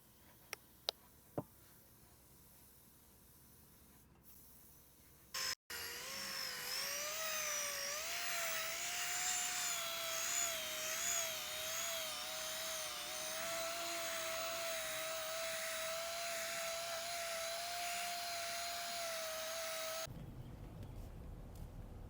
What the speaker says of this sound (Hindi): साफ़ करने के बाद हमने इस पर ग्रीन पॉलिश लगानी है